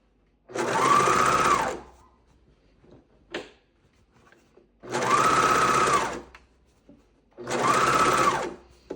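A coverstitch sewing machine stitches knit bands in three loud, close bursts of rapid whirring, each lasting about a second and a half, separated by near silence with faint handling clicks.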